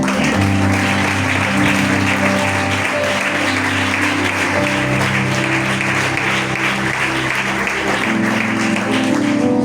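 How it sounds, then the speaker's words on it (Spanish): A church congregation claps at a religious sermon on Christ's death and resurrection, dense sustained applause that holds at full strength for the whole stretch, with voices murmuring beneath it. "¿Puedes darle un aplauso?"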